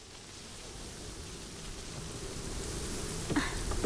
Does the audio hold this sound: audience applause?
no